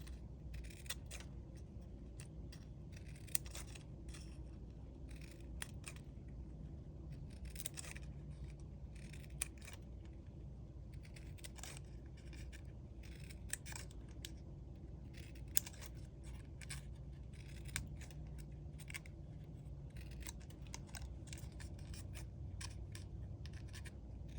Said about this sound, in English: So we're just gonna cut them to a point.